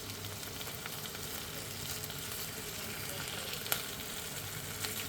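Chicken pieces for a Caesar salad sizzle in a hot pan as they brown, giving a continuous, fairly quiet crackle. One short clatter stands out midway and nobody speaks.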